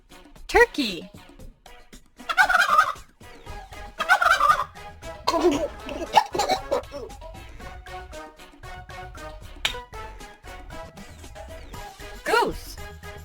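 A cartoon farm turkey gobbles in several loud, rapid bursts spread through the clip, each a warbling rattle, heard over bright children's music.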